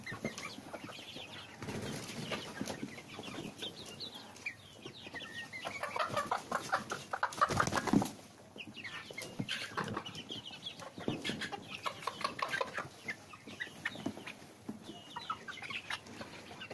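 Two-and-a-half-month-old Arab chickens, a meat and laying breed, cluck and murmur continuously at close range, with scattered louder squawks and some wing rustling in a farm setting.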